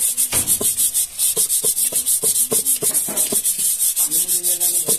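Sandpaper rubbed by hand over a brake part on a Suzuki Ertiga, the surface where the alloy wheel seats, in rapid rhythmic rasping strokes, close and loud, with no talking.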